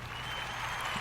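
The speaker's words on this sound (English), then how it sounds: "Let's do a round of applause for that." A brief burst of applause, a dense wash of clapping from an audience that holds steady for about a second.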